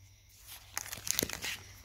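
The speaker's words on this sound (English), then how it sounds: "Okay, so this, I'm just going to shuffle." Pokemon trading cards are shuffled by hand, giving a soft papery crinkle and rustle that swells into a string of quick, close card flicks over a little under two seconds.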